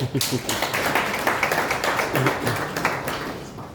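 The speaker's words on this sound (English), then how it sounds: "another round of applause, please" Applause for a football club chairperson, a brief uneven burst of nearby hand claps among a small crowd, with voices mixed in.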